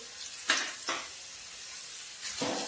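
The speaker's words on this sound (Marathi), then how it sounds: "आता व्यवस्थित परतून घेऊया" Garlic and green chili paste with coriander powder sautés in a pan for a gram-flour pithla, giving a soft continuous background sizzle broken by three brief, hissing bursts as the mixture is stirred.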